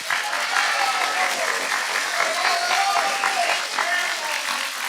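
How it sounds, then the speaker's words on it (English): Audience applause for a graduating class of culinary seniors at a decision day ceremony, a steady wash of clapping with a voice speaking over it throughout. "Let's give them a round of applause"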